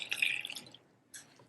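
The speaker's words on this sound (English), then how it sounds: "Now I'll add my water," Water poured into a bowl of crêpe batter, a short splashing trickle that stops, then a second brief pour, heard close and fairly quietly.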